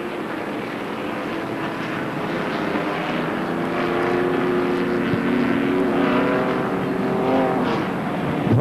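Stock race cars at Holland Speedway during the 1991 Busch North 150 cross the finish line with a continuous engine roar that swells slightly as they pass, loud and steady throughout.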